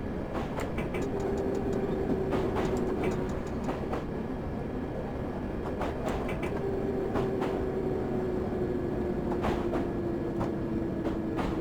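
A London Underground D78 Stock train in Train Simulator 2018 coasts downhill toward Ealing Broadway, with a steady rolling rumble, a faint whining tone and regular clicks from rail joints, and no talking.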